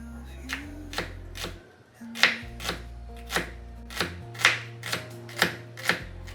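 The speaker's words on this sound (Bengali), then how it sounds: "এম হচ্ছে পেঁয়াজগুলো একদম কুচি কুচি করে দেবো" Onions are finely chopped on a cutting board with a knife, giving close, crisp knocks in a loose, fairly regular rhythm after a short pause, over a faint low hum.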